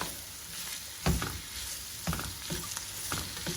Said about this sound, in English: And you're just going to saute all this and allow all the flavors to marry into each other.